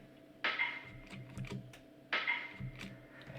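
Heavy wooden toy blocks clack together in two sharp, hollow knocks, each followed by a short patter of lighter rattles and taps. The sound is quiet and close, with no talk.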